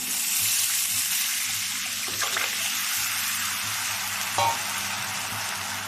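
Tamarind water pours into a hot pan of frying onions over a steady, loud sizzle, with a brief clink of utensils partway through.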